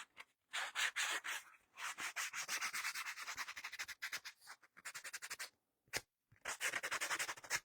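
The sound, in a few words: rubbing and scraping paper banner to distress it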